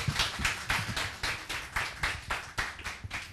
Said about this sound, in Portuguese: cadê as palmas para o Jean